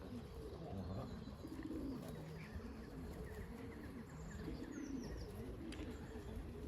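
Racing pigeons at the loft give soft, low, rhythmic coos that repeat throughout, close by, with faint chirps and a light insect-like buzz in the background.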